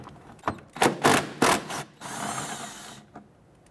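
A ratchet loosens two 10mm bolts on the wheel-well fender liner of a 1992-1996 Toyota Camry 2.2L, giving several close, quick clicking bursts followed by a longer steady whirring spin.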